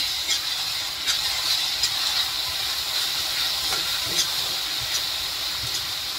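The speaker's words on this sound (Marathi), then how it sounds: "तेल सुटेपर्यंत आपण भाजून घेऊया चांगलं।" Masala roasts in oil for a paneer gravy, sending up a steady, bright, steamy hiss scattered with small crackles and spits, heard close with no talking.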